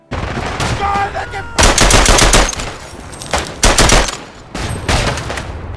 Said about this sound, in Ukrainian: Ще ось момент перестрілки.